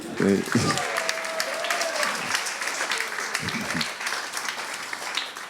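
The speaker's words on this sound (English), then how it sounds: "He gets an applause." An audience at a spiritual talk breaks into applause, a steady patter of clapping, moderately loud, with a few voices talking over it.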